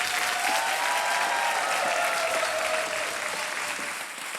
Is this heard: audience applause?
yes